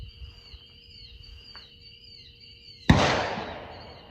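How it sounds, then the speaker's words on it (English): A single sharp gunshot cracks at an outdoor shooting range, loud with a decaying echo, following a stretch of steady high-pitched tones and faint background noise. "I'm out at the range, so you gotta bear with the gunfire in the background."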